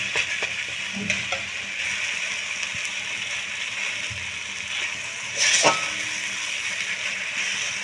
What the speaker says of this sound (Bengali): এই সব উপকরণ খুব ভালো করে আমি একটু কষিয়ে নেব।